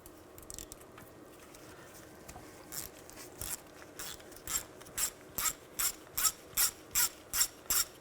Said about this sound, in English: Now use a 10mm socket and take these bolts out.